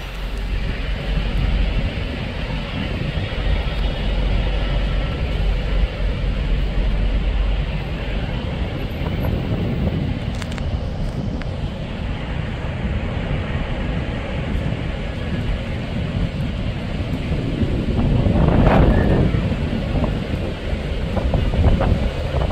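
A locomotive-hauled railtour train with no loco on the rear passes on its return to Kings Cross, a loud, sustained rumble and rush of rolling wheels under heavy wind buffeting on the microphone.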